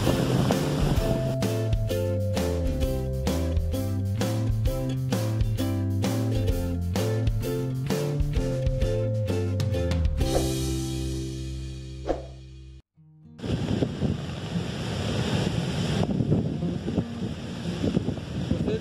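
At Cachoeira do Prata waterfall in Juscimeira, Mato Grosso, a steady broadband rush of falling water and strong wind buffeting the microphone fills the second half after a stretch of tonal music and a brief dropout.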